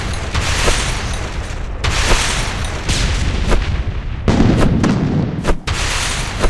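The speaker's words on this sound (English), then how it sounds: "I'm using my grenades to kill it." Grenade blasts in a 3D dinosaur hunting video game ring out as repeated loud booms with dense crackling tails, several in quick succession, filling the scene with no pause between them.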